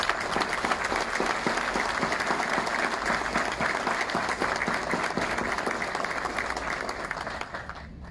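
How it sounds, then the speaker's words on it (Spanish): An audience gives a warm round of applause at a public event in Almoloya de Juárez, a full, sustained clapping of many hands that fades slightly near the end. "yo les diré un caluroso aplauso"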